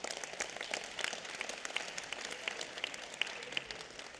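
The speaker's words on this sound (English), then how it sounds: "Let's give her a round of applause." Applause from the audience at a Los Angeles County Board of Supervisors meeting, a steady, moderately distant patter of many hands clapping for a few seconds with no talk over it.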